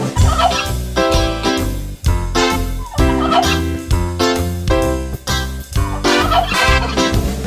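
Loud, close turkey gobbling in repeated rapid bursts, each a quick warbling run, over a steady musical backing from a Christmas song.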